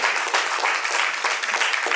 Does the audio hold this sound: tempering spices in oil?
no